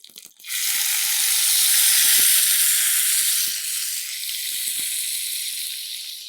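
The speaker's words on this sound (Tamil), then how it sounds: "இந்த தக்காளி கொஞ்சம் நல்லா வதங்கணும்." Tomato with asafoetida and curry leaves hits a hot pan with a sudden loud sizzle that settles into steady frying hiss, with scattered crackles and pops throughout.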